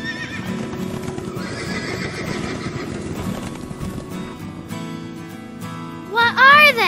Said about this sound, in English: Answer, horses!